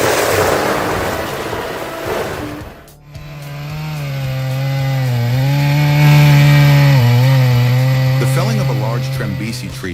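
A loud chainsaw roars close by, its engine pitch rising and wavering as it bites into a Trembesi tree, after a brief burst of coarse cutting noise.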